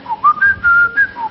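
A man whistles a short, warbling melody imitating a blackbird's song, several clear rising and falling notes over about a second, close and loud in a studio setting.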